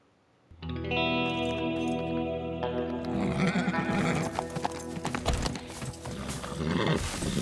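Horse neighs and clip-clopping hooves in the Teardown video game on PS5, starting after a brief quiet moment and continuing steadily under a layer of game noise and effects.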